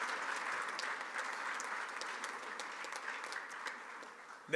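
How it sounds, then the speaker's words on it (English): A press-conference audience claps for a coach talking about the Miners. The clapping is faint and distant, a thin steady patter of many hands with a brief louder knock at the very end. "Okay, you can clap on that."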